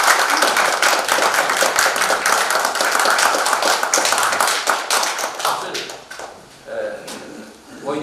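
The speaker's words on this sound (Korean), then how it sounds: "박수 한번" Audience at an expert panel meeting clapping for the presenters, a brisk burst of many hands that thins and fades out near the end, with some talk beneath.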